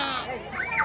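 A person imitates a goat with a single short, wavering, nasal bleat, close and fairly loud, rising and falling in pitch within a second.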